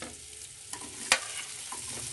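Chopped green chili and onion sautéing in a pan over a low gas flame, a steady soft sizzle broken by a few light stirring scrapes and one sharp clink near the middle, with no talking.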